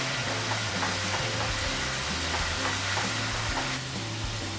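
Dahi fry, spiced yogurt, sizzles steadily in a hot pan, a continuous loud frying hiss with faint stirring, with no talking.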